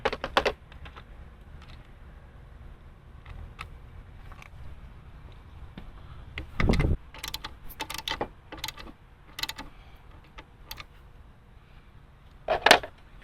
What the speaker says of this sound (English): use an 8mm socket to put that back in.